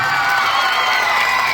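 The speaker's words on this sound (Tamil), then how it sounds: "மக்களை ஜோரா கைத்தட்டி ஒரு சொல்லு" At a live concert by a film-music troupe, a crowd claps and cheers in a dense, steady wash of applause. The sound is loud, sustained and even, with no single voice standing out.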